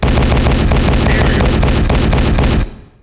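Rapid gunshot sound effects fire in a dense, loud burst of repeated cracks and booms for a few seconds, then cut off abruptly, no talking.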